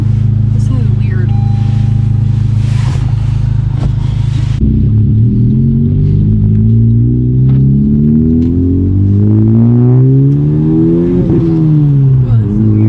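A tuned Honda Type R engine holds a loud, steady rumble, then its revs climb and fall in rising and sliding pitch sweeps as the clutch is worked, with voices talking over it.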